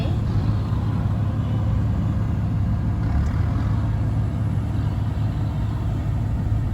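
A farm tractor driving along a dirt road, its low, steady engine rumble heard up close and continuous throughout, with no speech over it.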